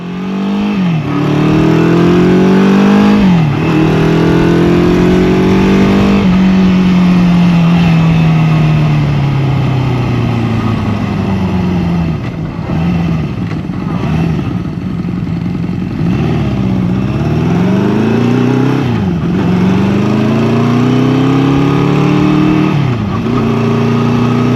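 A Honda CB350 motorcycle being ridden, its engine loud and close as it revs up through the gears, the pitch climbing and then dropping at each shift before settling into a steady cruising drone.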